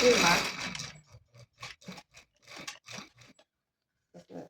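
A domestic sewing machine stitches bra fabric in a loud, whirring burst of about a second, after which a voice talks in short phrases with the machine quiet.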